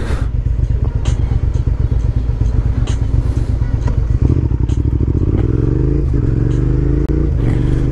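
Commuter motorcycle shifting gears without the clutch, loud and close: a steady pulsing engine rumble with clattering, and rising revs that drop at each shift, no talking.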